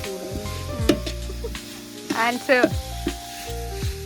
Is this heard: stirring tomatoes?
yes